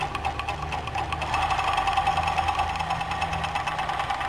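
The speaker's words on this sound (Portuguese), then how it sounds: "Então, ó, eu vou costurar pra vocês. Ó, ela corta ao mesmo tempo. O tecidinho vai caindo aqui." An interlock overlock sewing machine runs steadily, stitching and trimming fabric at the same time, a rapid, rattling mechanical buzz that is close and continuous, with no talking over it.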